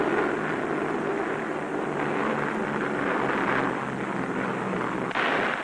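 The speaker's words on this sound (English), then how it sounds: "Giant liberators of the United States Army Air Force bound for Leh" Several US Army Air Force B-24 Liberator bombers drone in a dense, rumbling roar of wartime propeller engines, loud and steady throughout with a slight swell, heard from an old film soundtrack.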